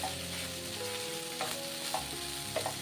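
Soya chunks fry in a pan for a Kerala-style biryani, with a steady, close sizzle and a few brief stirring scrapes, and no voices.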